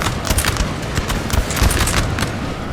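Musket volleys in the Napoleon Total War multiplayer battle of Borodino form a dense, continuous crackle of massed gunfire, loud and busy throughout, with overlapping shots and thuds.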